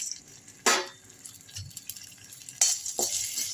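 Onions sautéing in a little sesame oil with fennel seeds, cumin and pepper: a soft, steady sizzle, broken by a few brighter bursts as a spoon stirs and scrapes the pan.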